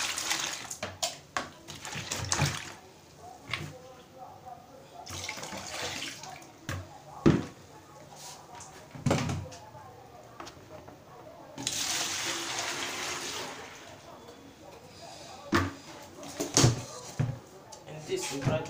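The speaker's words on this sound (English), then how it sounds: "I want to rinse this bucket." Water splashes and runs while a bucket is rinsed, in irregular bursts of pouring and sloshing, with a person speaking intermittently over it.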